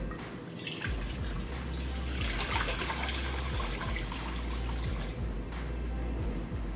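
Water pours into a cooking pot at the start of a vegetable recipe, a close, continuous trickling splash with small drips, steady and moderately faint, with no talking.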